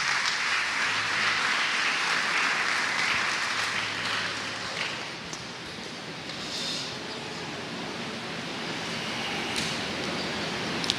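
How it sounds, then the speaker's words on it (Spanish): Sustained, dense applause from a church congregation fills the whole stretch, loud and steady with a rain-like hiss and no break. "Vamos a dar un aplauso fuerte a estos campeones"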